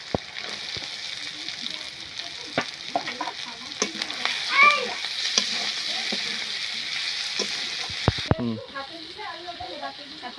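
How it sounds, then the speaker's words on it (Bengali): Chopped onions dropped into a pan of ginger and garlic frying in oil give a steady, loud sizzle broken by scraping stirs and knocks, with a voice speaking now and then. "এখন পেঁয়াজ কুচি দিয়ে দেবো।"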